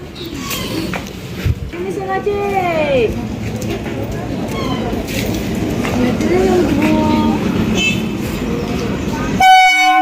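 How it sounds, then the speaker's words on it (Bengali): A train pulling into a busy railway station, its rumble and screeching wheels rising under crowd noise and talk, with a horn toot near the end. "ট্রেন ঢুকছে।"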